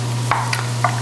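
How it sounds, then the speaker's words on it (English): Sweet and sour sauce sizzles in a hot pan, a steady close frying hiss broken by a few brief stirring scrapes, with no talking. "Ooh, listen to that sizzle."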